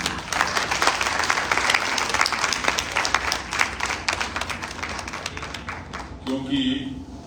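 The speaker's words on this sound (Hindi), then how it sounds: "आप लोग जोरदार तालियां बजाएं नीता जी के लिए" Sustained, fairly loud applause from an audience at a women's empowerment event, with dense clapping throughout that fades near the end as a brief voice cuts in.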